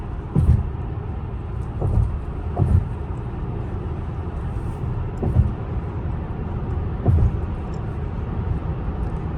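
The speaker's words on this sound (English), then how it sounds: "Honestly, the road noise isn't too bad." Cabin road noise inside a Tesla cruising on the highway, a steady low rumble with periodic soft thumps from seams in the road surface, heard without talk.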